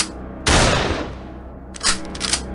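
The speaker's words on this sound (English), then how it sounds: "A loud gunshot rang out." Loud gunfire bursts out in a sharp blast followed by a lingering roar, then a second rattling volley near the end, close and with no voices.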